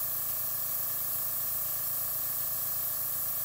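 Airbrush blowing a steady, loud stream of air over alcohol ink, a constant even hiss with a faint tonal hum underneath and no breaks.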